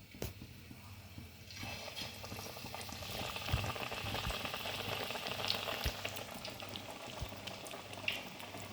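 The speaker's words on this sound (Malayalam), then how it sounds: "വെളിച്ചെണ്ണ നന്നായിട്ട് ചൂടായിട്ടുണ്ട്. നമുക്ക് ഓരോന്നായിട്ട് നന്നായിട്ട് പരത്തിയിട്ട് ഇട്ട് കൊടുക്കാം." Curry leaf vada patties hiss and sizzle in hot coconut oil, a dense bubbling crackle that swells as the pieces go in, with occasional small clinks and pops, moderately close.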